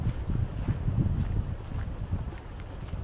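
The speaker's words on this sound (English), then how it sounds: "It's sunny, but it's very windy." Gusty wind buffeting the microphone outdoors on a sunny, windy island afternoon, a low rumbling roar that rises and falls unevenly throughout.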